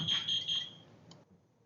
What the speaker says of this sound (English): The CO alarm is going to have a 4-chirp beep followed by a pause like this.